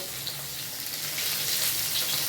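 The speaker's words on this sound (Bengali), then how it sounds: "দিয়ে আমি এগুলোকে ভালো করে ভেজে নেবো।" Onion frying in a pan with potato and vegetable stems, a dense continuous sizzle that swells slightly louder toward the end, close by with no talking.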